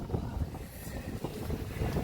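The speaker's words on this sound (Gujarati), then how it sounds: "આ રીતના પવન અને વરસાદ ભાઈ ગજબનો છે" Strong wind roars steadily in a rainstorm at Vallabhipur, with continuous gusty rumble buffeting the microphone and no voices.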